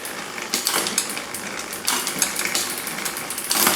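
A bicycle rear derailleur with overly tight top limit screws shifts down clunkily, giving a busy run of metallic clicking, rattling and ratcheting drivetrain noise at close range, with no talking.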